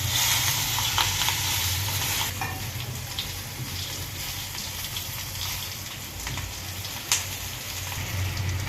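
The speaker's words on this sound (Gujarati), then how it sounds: "મરચાં પણ જે આપણે ભરીને રાખેલા છે તે પણ અંદર ઉમેરી દઈશું અને સરસ રીતે ધીમા તાપથી પાકવા દઈશું" Stuffed chillies cook in a pan over a low flame with a soft, continuous sizzle, punctuated by a couple of stirring scrapes and clicks, moderately quiet and close.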